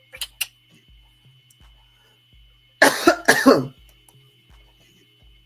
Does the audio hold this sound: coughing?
yes